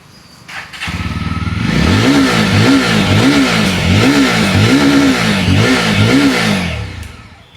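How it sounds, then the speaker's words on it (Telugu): A Jawa 42 motorcycle engine starts up and revs repeatedly in a steady rhythm of rising and falling throttle blips, loud and close, with no talking over it. "దీని ఒకసారి స్టార్ట్ చేసి దీని ఇంజిన్ బీట్ కూడా ఒకసారి వినిపిస్తాను"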